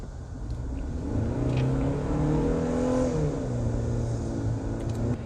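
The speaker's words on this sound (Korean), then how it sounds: "지금 드라이브 모드를 스포츠에 놓고 한번 다시 밟아 볼게요" A Kia Tasman pickup with a 2.5 turbo engine accelerates hard in sport mode, its engine note rising and swelling in pitch from inside the cabin, loud and continuous.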